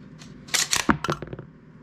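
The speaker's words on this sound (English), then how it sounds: "Now we're gonna extract the round by pulling the bolt to the rear manually" An AR-10 rifle bolt is pulled to the rear by hand, extracting a dummy round from the chamber: a quick cluster of sharp metallic clicks and clacks at close range, then quiet.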